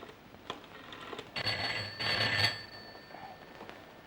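An old telephone rings in short bursts at moderate level in an Egyptian crime thriller film, with a quiet room around it and no talk.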